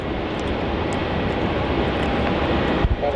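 Virgin Australia airliner, flight 223 to Adelaide, taking off from runway 27 at Melbourne Airport: a steady, loud broadband engine roar holding level throughout, with a brief bump near the end and no talking.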